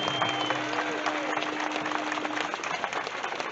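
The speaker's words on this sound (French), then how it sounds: "On peut les applaudir en effet" An audience at a political speech in Mulhouse applauds steadily, with dense, sustained clapping heard from a distance and a faint tone running beneath part of it.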